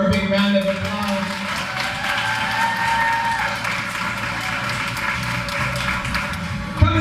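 An audience at a teacher awards ceremony claps steadily for an honored special educator, a continuous moderate round of applause with some talk mixed in.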